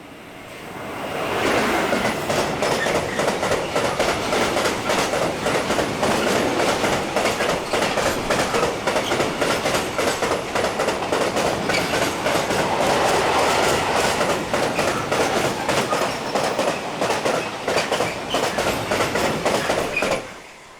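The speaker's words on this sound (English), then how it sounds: "SNCF Freight Allocated 27077 heads east with a trainload of steel products" SNCF freight locomotive 27077 heading east with a trainload of steel products near Dunkirk rolls past steadily for about twenty seconds, a continuous loud rumble with rhythmic clickety-clack of wagon wheels over rail joints and no talking.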